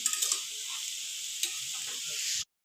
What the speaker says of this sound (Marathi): एकदम छान रीतीने त्यांना असं एकजीव करून घेते तुपामध्ये